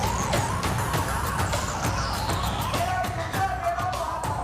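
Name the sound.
ambulance siren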